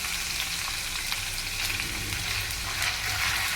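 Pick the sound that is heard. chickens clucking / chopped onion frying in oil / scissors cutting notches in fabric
chopped onion frying in oil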